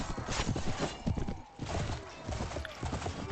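Horses gallop in Mount & Blade Warband with the Floris mod, hooves clip-clopping in quick, steady rhythm close by, with whinnies mixed into the busy battle noise and a short lull midway before the galloping picks up again.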